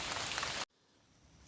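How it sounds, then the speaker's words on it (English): Steady rain falls on a 2010 Suburban bumper outdoors, a dense hiss that cuts off abruptly partway through, leaving a faint quieter wash of drizzle afterward. "the sky decided to open up a little bit and put a nice, not downpour, but a steady rain"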